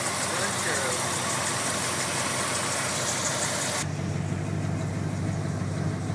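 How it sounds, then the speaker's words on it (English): A 1968 Ford Ranchero engine idles with a steady, even rumble, recorded close and continuous with no talk; partway through the tone shifts as the recording moves toward the exhaust end. "That is the sound of a 68 Ranchero that runs on its own."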